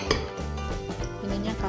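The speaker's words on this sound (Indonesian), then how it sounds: "Terus dimasukin susu, kocok, diaduk terus." Milk being whisked into dorayaki batter in a bowl, with steady clinking and scraping of a utensil against the bowl throughout, close and moderately loud.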